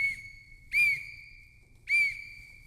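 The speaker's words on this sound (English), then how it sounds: "what happens if they blow the whistle too much?" A referee's whistle blows two sharp, loud shrill blasts roughly a second apart, each clear and piercing over a quiet background.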